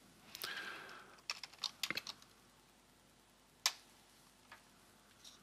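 Sparse keyboard clicks from someone typing code on a computer, a short cluster of quick taps followed by a couple of isolated keystrokes, close and quiet with no talk.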